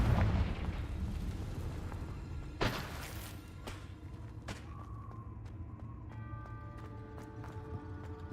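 A Confringo spell explosion bursts in the video game Hogwarts Legacy, a sharp blast followed by rumbling debris and scattered hits beneath continuous game background sounds.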